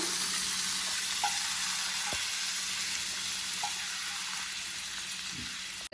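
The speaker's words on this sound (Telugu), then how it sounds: "సో మళ్ళీ సేమ్ ప్యాన్లో కొంచెం ఆయిల్ వేసి గార్లిక్ని మంచిగా కట్ చేసేసుకొని అందులో వేసి ఫ్రై చేయాలి కొంతసేపు" Garlic fries in oil in a pan with a steady, even sizzle that holds for about six seconds. A couple of faint utensil taps sound over it, and no one speaks.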